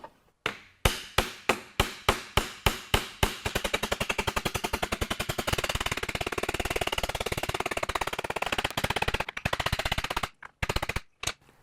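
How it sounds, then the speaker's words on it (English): A hammer striking a caulking tool to work copper sheet over wire on a banjo rim form, first slow separate metallic taps, then rapid steady hammering for several seconds, ending with a few scattered blows, close and loud. "I'm going to use a hammer and a caulking tool to start working the metal down"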